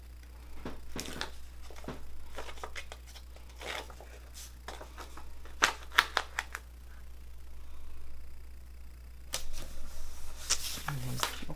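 Score tape being peeled off paper, soft intermittent tearing and crinkly rustles with a few sharper snaps, quiet and close, with talking in between.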